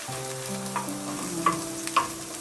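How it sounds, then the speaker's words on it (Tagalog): Okra sizzling in oil on a grill pan, a close steady frying hiss with a few clicks of stirring and faint tonal hum underneath, no talking. "Lagay ko yung okra."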